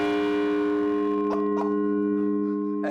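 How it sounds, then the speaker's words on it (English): A church bell weighing over a ton, in a 264-year-old steeple, rings with a loud sustained metallic hum that decays slowly, with a few sharp clanks and knocks near the hammer partway through and at the end. "this is the hammer that we used to strike the bell before"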